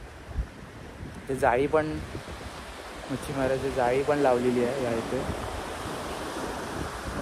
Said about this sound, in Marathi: फुल असं आवाज समुद्राच्या लाटांचा